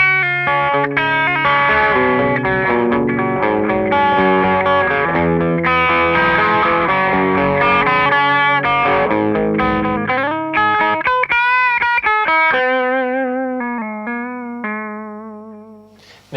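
Electric guitar played through a Red Witch Scarlett overdrive pedal driving the front end of a valve amplifier, giving a loud, continuous crunchy distorted tone with chords and riffs, ending on sustained ringing notes that slowly fade.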